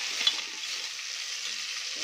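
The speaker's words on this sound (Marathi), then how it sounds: "व्यवस्थित आपण हे पण 1 मिनिटभर छान परतून घेऊया." Khichdi masala with tomato and coriander sautéing in a pan gives off a soft, even hiss of frying, with one light tap near the start and otherwise a steady sizzle without talk.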